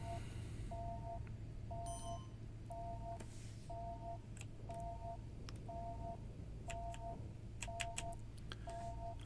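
An in-game phone in the space-management game The Last Starship rings as a steady series of short, evenly spaced electronic double-tone bursts, roughly one per second, over a constant low background hum with faint clicks.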